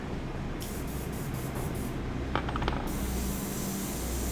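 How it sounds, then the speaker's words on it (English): An airbrush sprays paint in short hissing bursts, a close steady airy spray broken by a few brief clicks and taps partway through, with no talking. "So are you ready to airbrush?"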